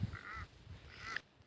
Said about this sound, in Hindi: कौवे हैं।